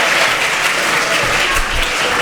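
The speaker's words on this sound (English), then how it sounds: "Give yourselves a round of applause for being a model of audience behavior." A conference audience at a political weekend event bursts into loud, thick applause, continuous and even from start to finish, with a faint low rumble beneath.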